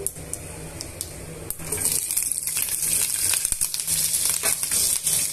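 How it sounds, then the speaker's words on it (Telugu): Chopped onion and green chilli fry in a pan for Bindi masala curry, a bright sizzle that grows louder after a couple of seconds, with scattered clinks and scrapes of a spoon against the pan. "ఇలా ఉల్లిపాయ ముక్కల్ని పచ్చిమిరపకాయ ముక్కల్ని వేసుకొని మనం వేయించుకోవాలి"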